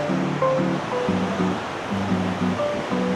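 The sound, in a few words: waves crashing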